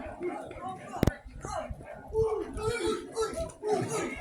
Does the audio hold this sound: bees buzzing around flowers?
no